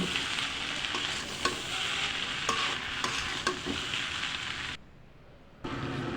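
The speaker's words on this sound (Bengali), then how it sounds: "আবারও আমি নেড়ে একসাথে সবগুলো মিশিয়ে নিচ্ছি" Noodles with chopped tomato and spice mix are stirred in a hot sizzling pan, a steady close frying hiss with scraping strokes that drops out briefly near the end before resuming.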